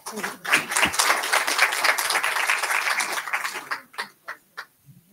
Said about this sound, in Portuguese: uma salva de palmas para o Tiago aqui